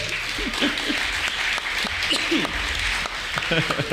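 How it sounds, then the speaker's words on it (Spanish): A live audience at an anniversary show claps steadily and loudly for two guests throughout, with voices talking and calling out over the applause. "Un aplauso para Moni y para Viola"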